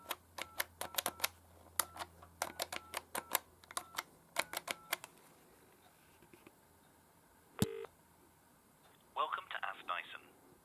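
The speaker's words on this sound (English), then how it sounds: "So you can hear the dial tone there." A 1979 AT&T Western Electric Noteworthy push-button wall telephone gives a faint steady dial tone under a quick run of sharp button clicks, then a short burst of dialing tones near the end.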